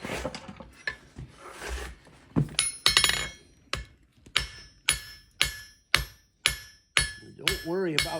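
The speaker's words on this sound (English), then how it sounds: "A good forging hammer." A forging hammer strikes a hot metal horse head on an anvil, first in a few irregular blows, then in a steady run of sharp, ringing hits about every half second, close and loud.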